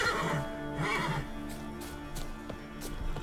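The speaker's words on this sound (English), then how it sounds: "Checking out Roach? I don't blame him, he's a fine horse." A horse whinnies and snorts in The Witcher 3 video game, fairly close, with a few soft thuds and a faint steady background hum.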